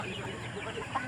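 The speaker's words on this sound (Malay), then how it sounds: "Ni anak-anak ayam-ayam ni." Baby chicks hatched from eggs in an incubator, heard as a steady, dense chatter of soft peeping and clucking close by, continuous through the clip with one slightly louder chirp near the end.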